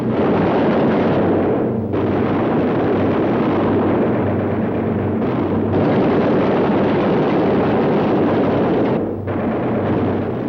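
Heavy flak bursts pound continuously around a damaged B-17 Flying Fortress with an engine on fire in a wartime film, a dense rumbling barrage with deep low thuds and brief lulls, loud and close throughout.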